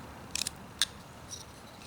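A whittling knife makes small cuts in wood, giving a few quiet, crisp snicks and scrapes, two short clusters and a fainter one, against a very soft background.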